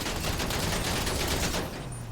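Rapid bursts of gunfire hammer a Halftrack's windshield in a video game, loud and dense, cutting off near the end and leaving a low hum.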